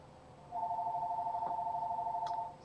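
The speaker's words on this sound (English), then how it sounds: "Sorry, that's the phone." A telephone rings with a steady electronic warble for about two seconds, moderately loud and alone in a quiet room.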